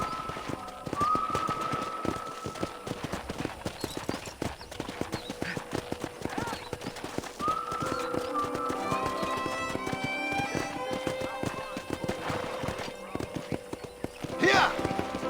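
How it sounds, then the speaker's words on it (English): Horse hooves clip-clopping at a steady riding pace in the Western video game Red Dead Redemption, continuous and fairly close, with a brief whinny, under music and occasional talk. "let's see if you can still ride a horse."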